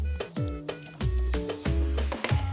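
Several sharp cracking snaps of crunchy homemade sesame brittle being broken, close up, with crunchy crackles between the breaks and no talking.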